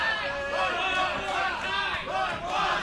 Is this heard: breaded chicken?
no